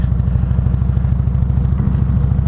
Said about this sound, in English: They hear this Harley coming down there